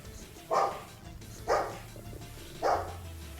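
A dog barks three times in the video game Powerwash Simulator, evenly spaced and moderately close, each bark short and sharp against a quiet low background hum.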